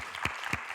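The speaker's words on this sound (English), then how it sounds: "That clap better have been for her, not for me" Two sharp hand claps about a quarter second apart at a live conversation event, crisp and fairly close, standing out over a low room hush with no talking.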